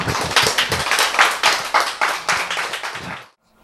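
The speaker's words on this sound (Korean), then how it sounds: "박수." An audience claps at a Korean church sermon, a near, loud burst of distinct, rhythmic claps that runs about three seconds, then stops abruptly into silence.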